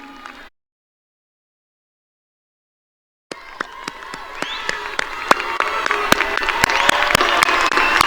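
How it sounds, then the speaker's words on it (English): Big round of applause at a high school graduation ceremony as families and parents are honored. It starts after a brief silence, then the clapping and cheering swell steadily louder and hold strong. "honor your families with a big, big round of applause"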